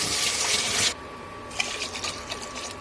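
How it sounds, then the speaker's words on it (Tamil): Water is poured into a cooking pot for rava kichadi, a loud close splashing rush that cuts off after about a second, followed by softer sizzling and bubbling. "இப்போ தண்ணி ஊற்றணும்"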